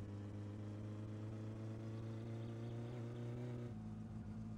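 Satsuma car engine in the video game My Summer Car, a steady droning hum that drops in pitch as the gear shifts near the end, with no talking.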